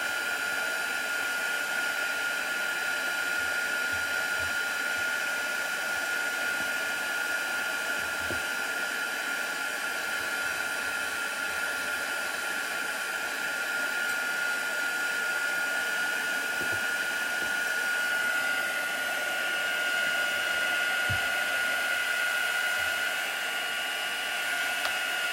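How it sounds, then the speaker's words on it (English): A heat gun blows hot air to loosen glue on a separated area of a chalk art craft project, with a steady, close whooshing hum that runs unbroken and never stops. "So I'm going to heat it with my heat gun, which is going to loosen the glue."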